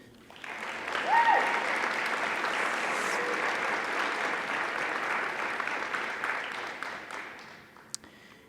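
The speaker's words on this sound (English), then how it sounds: "Please give yourself a round of applause for making such a strong impact in our community." Steady applause from an audience at a 2023 Youth of the Year celebration, a dense sustained wash of clapping that swells quickly, holds for several seconds and tapers off toward the end.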